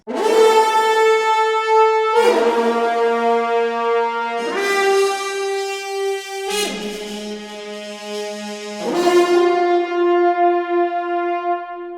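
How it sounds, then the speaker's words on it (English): Four long French horn rips from a sampled instrument library, each sweeping up into a sustained, ringing tone before the next begins, loud and close with no talking. "We also have some longer rips,"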